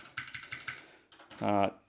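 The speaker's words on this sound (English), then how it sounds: "these are Cherry MX Blue, but you can get them in brown like we have here on this keyboard" Cherry MX brown switches on a Ducky Mecha Mini mechanical keyboard clack in a quick run of about five close keystrokes, then a brief pause and a denser burst, heard up close.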